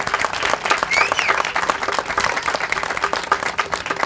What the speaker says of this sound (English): give them a big round of applause for all of the hard work that they do